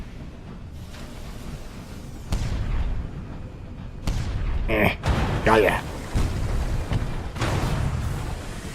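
Booming Jerusalem cannon shots go off in Sunless Skies, a few heavy blasts spaced a couple of seconds apart over steady rumbling, with a brief spoken word.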